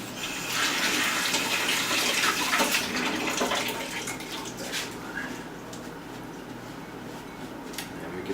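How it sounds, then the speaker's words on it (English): Tap water runs steadily over marinated artichoke pieces being rinsed with a fork, a broad continuous splashing hiss that is loudest early on and eases somewhat toward the end. "And let me take a fork and rinse this off real quick."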